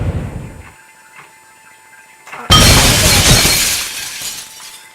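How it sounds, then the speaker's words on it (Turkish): Glass shatters suddenly and loudly in the Happy Wheels video game, a bright crashing burst of breaking shards that rings on and slowly fades, after a few quiet thuds. "cam kırılmış"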